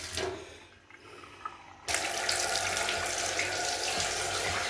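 Water gushes from an opened tap in a home. The room is quiet at first, then a loud, steady rush of running water starts partway through and continues to the end.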